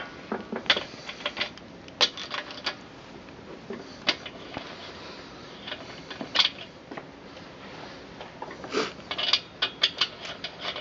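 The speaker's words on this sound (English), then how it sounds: "Now if I can take this off with this little bitty ratchet." A small hand ratchet works on the main bearing cap bolts of an engine, giving bursts of quick, light clicking that start and stop, close and moderately loud in a quiet workshop.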